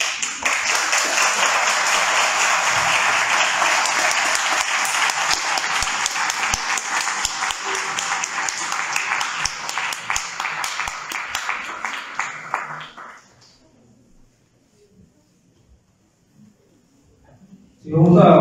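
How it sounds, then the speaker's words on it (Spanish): An audience applauds a speaker at a Mexican lecture tour event on progressive education, loud sustained clapping for about twelve seconds before dying away into near silence, then a sudden loud burst at the end. "Nos gusta ofrecer esos aplausos a nuestros conferencistas."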